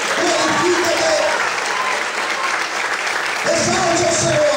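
Church congregation clapping steadily throughout, a dense continuous wash of applause, with a voice speaking over it at the start and again near the end.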